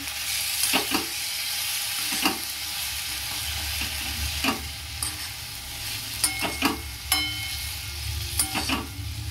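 Food frying in a pan over a low gas flame, seasoned with salt, is stirred with repeated sharp scraping strokes over a steady close sizzle, with no voices.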